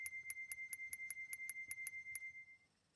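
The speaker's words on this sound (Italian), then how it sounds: "tramite un accelerometro ho cercato di simulare il suono dei piattini." Tambourine jingle sound simulated through MIDI, triggered by an accelerometer attached to an Arduino: a run of about eleven bright, evenly spaced metallic clinks that stop near the end.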